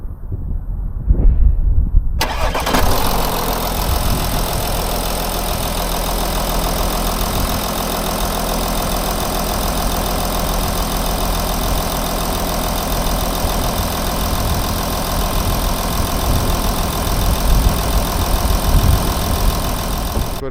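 Audi A6 Allroad 2012 C7 with the 3.0 TDI diesel turns over after a brief silence, catches and settles into a steady, close, fairly loud idle that runs evenly with no talk.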